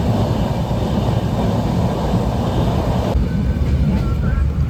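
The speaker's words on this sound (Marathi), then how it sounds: "8 वाजून 8 मिनिटांनी गाडी सुटली आहे स्टेशनवरून" A passenger train on the Konkan Railway pulls away from a station, heard from inside as a loud, steady rumble of wheels and carriage noise that continues without a break.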